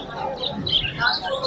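Java sparrows and finches chirp in short, scattered calls at a busy bird market in Mirpur 13, Dhaka, with crowd voices and talk running underneath.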